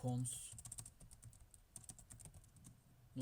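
Fingers type on a computer keyboard, with quick close clicking keystrokes in uneven bursts over a quiet background and a faint voice briefly at the start and end.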